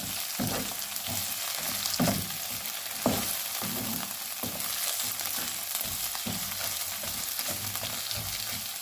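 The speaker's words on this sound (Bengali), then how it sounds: "এই অল্প তেলে এটাকে আমি এখন ভাজবো।" Onions frying in a small amount of oil in a pan sizzle steadily, with periodic scraping stirs and soft clatters of a utensil. There is no talk.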